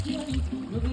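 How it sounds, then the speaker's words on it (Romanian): A cup of water is poured into lamb stew simmering in a cauldron, producing a short, close liquid trickle and splash that swells and fades in uneven pulses. "Mai punem și o cană de apă."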